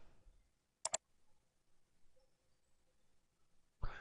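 Two quick computer mouse clicks close together while selecting a monitor settings tab in Windows 7, crisp and near against a quiet background, with another faint click-like noise at the end.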